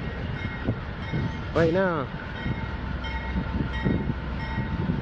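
A BNSF freight train rumbles through a rail yard, with one short, loud horn blast partway through over low rolling noise, while a person speaks briefly nearby.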